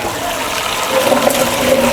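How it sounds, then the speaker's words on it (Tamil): Hot water from an instant electric water heater pours straight into a bucket below, a steady close splashing rush that grows slightly louder partway through. "இந்த பக்கெட்லேயே வந்து டைரெக்டாக தண்ணி பிடிக்கணும்னாலும் பிடிச்சிக்கலாம்."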